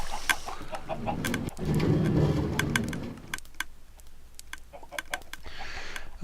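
Flock of chickens clucking in Minecraft, many short repeated clucks scattered across the scene at moderate volume, with a low rumbling mechanical hum underneath for part of the time.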